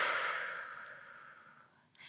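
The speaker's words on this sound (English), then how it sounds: "take 3 more deep breaths again" A long, deep exhale drawn out slowly and fading away, taken by a woman practising a kneeling labor position beside a couch, heard close and alone with a faint breath at the end.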